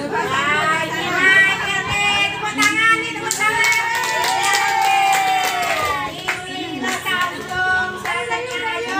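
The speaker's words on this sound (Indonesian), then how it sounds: "Tepuk tangan nih, tepuk tangan." An audience of elderly people clapping together at a New Year 2024 celebration, rhythmic, loud and close, with voices singing and calling out over the applause throughout.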